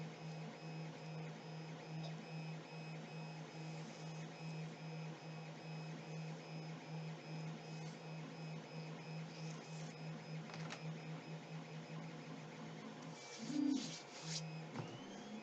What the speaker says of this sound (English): I'm here to promote 3D printing.